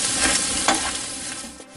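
Rice toasting over a low flame in a pan after softened onion, for Roman-style supplì al ragù, giving a steady close sizzle with soft stirring scrapes throughout.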